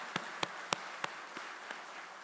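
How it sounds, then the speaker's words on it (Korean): Sparse, scattered hand claps from a church congregation applauding Sunday school teachers during an afternoon worship service, about six separate claps spread unevenly over a quiet room with no talk. "우리 주일학교 교사들을 위해서 큰 격려의 박수 한번 부탁드리도록 하겠습니다"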